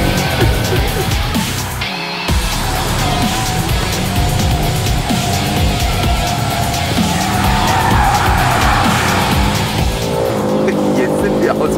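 A race car on a track breaks traction and skids, tires squealing loudly over a roaring, revving engine for several seconds.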